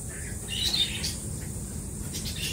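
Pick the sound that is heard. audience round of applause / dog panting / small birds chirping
small birds chirping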